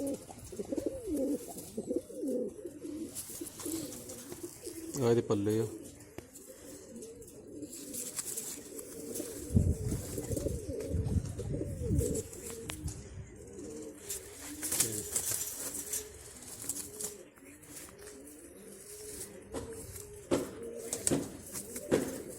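Red Chini pigeons coo continuously in low, throaty rolling phrases, close by, with a few words spoken briefly over them.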